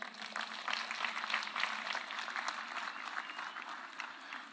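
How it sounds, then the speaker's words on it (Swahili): Audience applause for the President of Senegal at a Kenyan Mashujaa Day celebration in Kitui County: sustained, dense clapping from a crowd, steady and fairly distant, without speech. "Wapi makofi ya Rais wa Senegal jameni"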